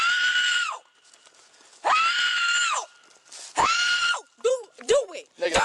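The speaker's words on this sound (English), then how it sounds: "I got a female screaming." A woman screams at a traffic stop in long, loud, sustained wails, three drawn-out cries followed by shorter broken shrieks, all close and piercing.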